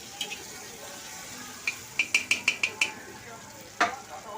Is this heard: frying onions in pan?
yes